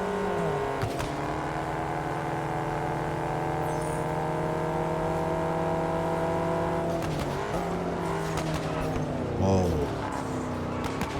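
An Alpine race car in the video game Test Drive Unlimited Solar Crown, racing in a sprint event: a steady, high-revving engine whine with gear-shift drops and brief tire squeal, loud and continuous throughout.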